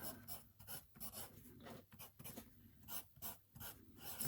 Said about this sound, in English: And I'll just write it down again.